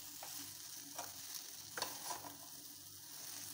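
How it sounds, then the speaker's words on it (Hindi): Veg hakka noodles stirred in a kadhai on a gas stove, with soft steady frying sizzle and several clattering scrapes of the spatula against the pan, close and moderately loud with no talk. "अभी मसाला मिक्स नहीं हो पा रहा है क्योंकि कढ़ाई हमारी हिल रही है गैस पे"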